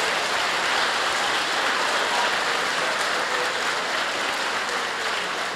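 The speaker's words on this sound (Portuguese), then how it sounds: "Palmas para Jesus, glória a Deus." Church congregation clapping in praise during a sermon, producing a loud, continuous wash of hands that sounds almost like heavy rain, steady across the whole span.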